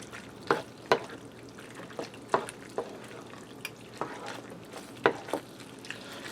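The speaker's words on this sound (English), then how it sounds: "Give that a stir, get everything mixed together." BBQ pork and penne pasta stirred in a skillet: repeated scraping, clacking utensil strokes at an irregular rhythm over a soft background sizzle, close and moderately loud, with no talking.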